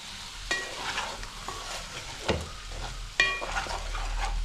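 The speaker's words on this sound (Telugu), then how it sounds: "ముక్కలు కూర వేసుకుని నిదానంగా కొంచెం ఇది కూడా కొద్దిసేపు మగ్గాలి" Goat intestine and lung curry cooking in a pan, with a steady close sizzle and a few sharp stirring scrapes and clinks against the pan, no voices.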